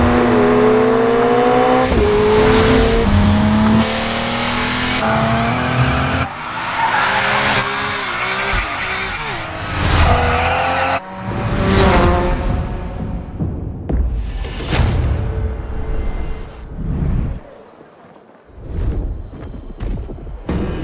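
A BMW driven hard in the racing game The Crew Motorfest: a loud, revving engine with shifting pitch, repeated long tire squeals and skids, and gear changes, sometimes easing off before surging again, with no talk.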